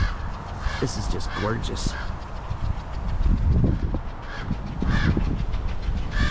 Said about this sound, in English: Wow, they're flying high today, these crows.